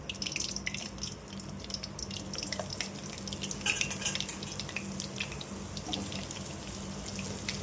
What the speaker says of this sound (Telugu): తర్వాత నూనె వేడెక్కినాక బోడ కాకరకాయలు వేసుకోవాలి